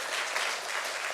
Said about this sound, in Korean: 함장로님, 윤권사님 함께 일어나 주시고 박수로 환영해 주시기 바랍니다